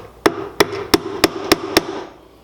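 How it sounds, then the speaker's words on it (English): Hammer tapping a staple back into the wood of a tool chest coffee table: six sharp, close knocks at a steady pace over about a second and a half, then quiet. "Hammer that back in."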